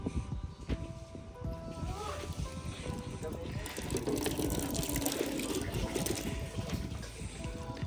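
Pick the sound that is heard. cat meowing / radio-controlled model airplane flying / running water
running water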